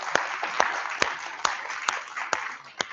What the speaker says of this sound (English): Let's give them a round of applause and a big thanks for the coffee today.